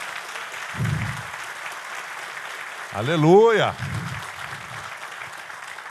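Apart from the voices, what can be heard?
congregation applause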